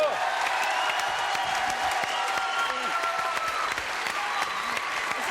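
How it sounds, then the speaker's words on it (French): A French television studio audience applauds continuously, a thick bed of clapping with scattered cheers and whoops, while voices talk and call out over it. "Applaudissements pour Marie, mesdames,"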